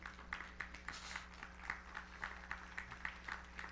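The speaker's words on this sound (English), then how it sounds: "You could just as well be clapping for Rabbi right now." Audience applause at a musical cabaret: a steady wash of many hands clapping with distinct sharper claps recurring in a loose rhythm, soft and somewhat distant.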